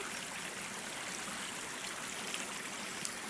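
A creek flowing steadily, a soft continuous babble and trickle of water heard alone at low level.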